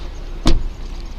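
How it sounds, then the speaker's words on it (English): A car's power window is lowered during a police stop in Alabama, a short, sharp mechanical whir and thunk over a steady background hum. "Will you let the window down a little bit for him?"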